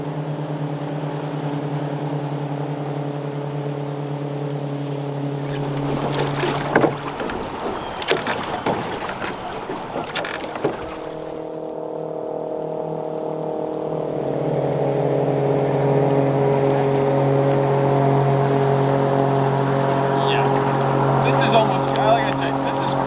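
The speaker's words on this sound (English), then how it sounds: "the number of jet boats trying to make their way back to their respective lodges for lunch made the river an absolute wave pool" Jet boats motor along a river, a steady, close engine drone with layered humming tones; partway through, a loud rush of wind and water buffets the sound before the droning engine settles back in.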